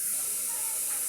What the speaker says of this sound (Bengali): মাংসটা একটু ভেজে নেব।